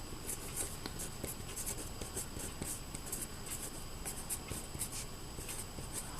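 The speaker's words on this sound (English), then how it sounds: "So I can write a little note here at the top of my pattern" Pen writing a note on a paper knitting pattern, a quiet, close scratching with short rhythmic strokes in a still room.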